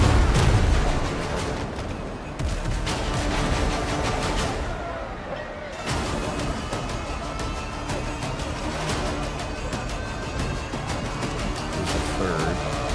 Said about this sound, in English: Dude, I can't even see. There's so many explosions.